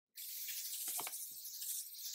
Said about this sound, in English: I'm going to go in with the L'Oreal Infallible 3-Second Setting Mist.